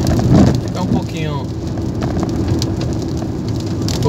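Rain drums steadily on a car as it drives along a rural road, a dense, even patter mixed with engine and road rumble, while someone talks over it at the start.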